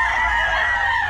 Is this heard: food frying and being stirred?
no